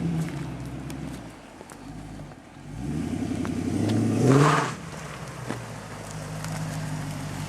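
A 2009 Dodge Challenger R/T turns around and drives off, its engine swelling as it passes close by, then dropping away, with no one talking.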